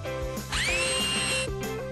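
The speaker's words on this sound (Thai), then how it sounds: "นี่ไงจังนี่ก็เจาะรูเลยจ้ะ" A drill boring a hole for a window while building a house: the motor whines up to a steady high-pitched spin for about a second, then winds down, close and loud.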